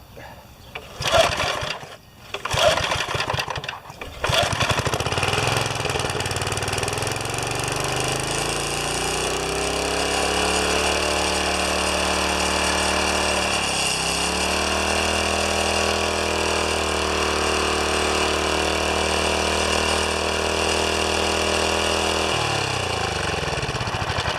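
A small gasoline engine, long stored in a shed, sputters and catches after a few pulls, then runs at a steady droning idle, dips briefly, and cuts off at the end.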